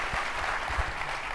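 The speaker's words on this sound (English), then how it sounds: "big round of applause again for these incredible leaders and luminaries" Audience applause for panel guests at a Disney fan convention, a dense even wash of clapping that holds steady throughout this short stretch with no talk on top.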